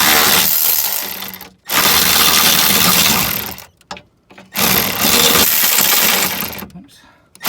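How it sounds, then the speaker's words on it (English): An electric ratchet on a Mini Cooper S R56 spins out a rear sway bar bolt with loud, continuous whirring bursts separated by brief pauses, close up. "now I'm gonna take out the rest of the way with my electric ratchet"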